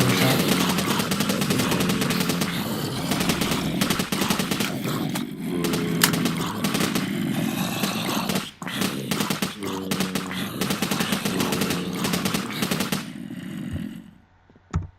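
Gunfire from a Minecraft ZombieCraft zombie mod: dense rapid bursts of shots crackle loudly and nearly nonstop over busy game sounds, then cut off abruptly near the end.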